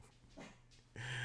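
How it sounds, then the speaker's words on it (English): A dog makes a few short, faint whimpering yips, then a louder burst near the end, heard alone at low volume. "And the dog is barking."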